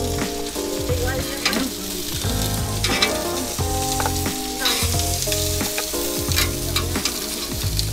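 Crispy grilled chinchulines (beef intestines) crackle and crunch close up in dense bursts of sharp snaps, with a tonal musical backing running underneath throughout.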